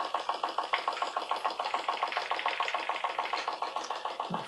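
A small D14 steam engine runs on gas, fired by the smallest Bix burner turned right down. It makes a quick, even chuffing beat, steady and moderately loud, with a slight knocking rhythm and no speech.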